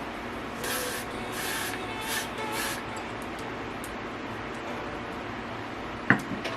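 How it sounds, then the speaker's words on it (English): Several short hissing bursts of hair glue spray in quick succession near the start, then a quiet room with a small knock near the end. "take a little bit more of my Got To Be glue and just spray it on top"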